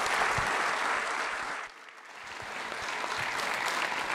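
A church congregation claps steadily and densely. The applause dips briefly halfway through and then swells again.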